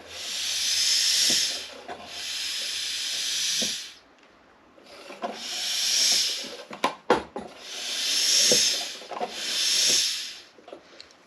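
Compressed air hisses in repeated bursts past leaking valves in a Yamaha VX110 engine, roughly four pulses each lasting about two seconds, with a few clicks and knocks between them.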